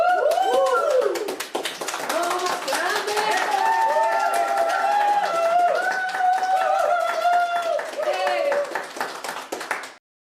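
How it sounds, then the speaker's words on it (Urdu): A group claps together to celebrate a win, with rapid, continuous clapping mixed with raised, cheering voices, cutting off abruptly near the end. "ایک کامیابی کا جشن منانے کے لیے ہم تالیاں بجاتے ہیں، اور آپ بھی تالیاں بجائیں"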